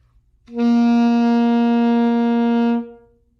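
A single held saxophone note with too narrow a vibrato, steady and nearly flat with almost no pitch wavering, played close and loud for about two seconds before stopping.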